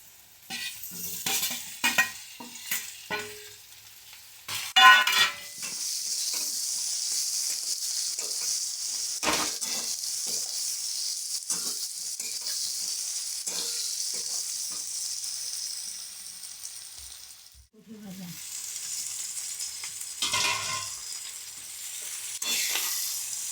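Potatoes fry with spice paste in a pan, giving a steady bright sizzle broken by stirring scrapes and utensil clatter, briefly pausing before the frying resumes.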